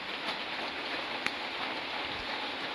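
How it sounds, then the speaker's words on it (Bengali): Steady rain pours down outdoors in a village setting, a dense continuous hiss with one brief sharper tap, no voices. "বৃষ্টি আজকে শুরু হয়েছে আর কমার কোনো নাম নাই"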